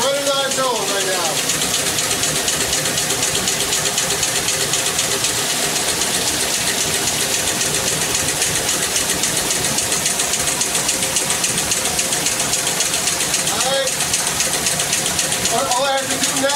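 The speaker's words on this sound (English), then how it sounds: "This machine is running on its own right now." A self-running machine hums and clatters in a steady, loud mechanical drone like an engine, continuous throughout, with someone talking over it.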